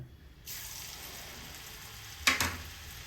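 Ragi and sesame murukku dough hits hot oil and begins frying, a soft steady sizzle rising after a moment of quiet, then a brief louder bubbling burst near the end, no talking.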